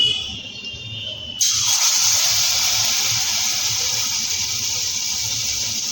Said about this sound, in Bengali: তেলটা আমার গরম হয়ে গেছে আমি এবার একে একে করে এগুলো পনিরগুলো পনিরের পকোড়াগুলো আমি ছেড়ে দেবো